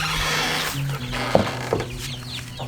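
Chickens cluck softly nearby, with a few short, sharper calls standing out against a quiet, low background and no talk.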